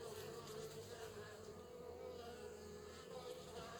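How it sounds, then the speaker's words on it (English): Honey bees hum steadily around an open hive during an inspection, a faint, continuous, even drone with no voices over it. "These bees are extremely calm."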